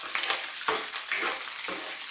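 Ginger sizzles steadily in hot oil in a pan over medium heat alongside onion and garlic, a loud continuous fry with soft stirring scrapes and no talking.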